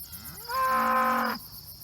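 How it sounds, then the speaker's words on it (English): A single long, low cow moo rises and holds for about a second on a farm, close and clear with no other sounds around it. "What are you doing, cows?"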